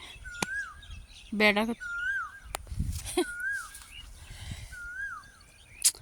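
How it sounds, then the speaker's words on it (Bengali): A koel calling in spring in a village: four or five evenly spaced rising-and-falling whistled calls, clear and fairly near, with a brief voice and other small sounds in between. "বসন্তকালে কোকিল ডাকতেছে"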